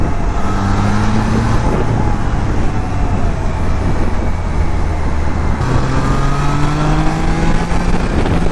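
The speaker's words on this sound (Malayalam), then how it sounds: "നല്ല സ്വീറ്റ് സൗണ്ടിങ് ആയിട്ടുള്ളൊരു മോട്ടോർ സൈക്കിളാണ് കേട്ടോ ട്രൈഡൻറ്റ് എന്ന് പറയുന്നത്" A Triumph Trident 660 motorcycle engine drones loudly and steadily, its pitch climbing in smooth rising sweeps as it accelerates, with road noise underneath throughout.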